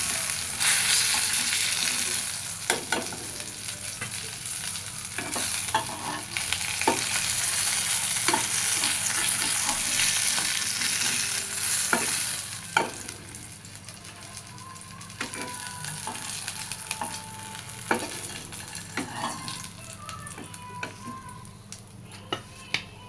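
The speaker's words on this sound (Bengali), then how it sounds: "তার জন্য খুব ভালো মতো ভেজে নিচ্ছি মাছগুলা।" Fish frying in a pan alongside dried red chillies, giving a steady close sizzle with scattered sharp clicks and scrapes of a utensil stirring against the pan.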